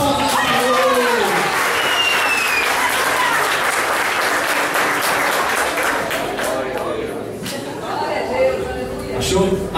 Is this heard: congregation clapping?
yes